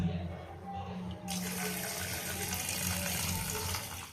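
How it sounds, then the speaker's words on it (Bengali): Raw chicken rinsed under a running kitchen tap: a low hum comes first, then water suddenly gushes in a steady stream, splashing continuously until the end. "এটাকে ধোবো এবারে ভালো করে।"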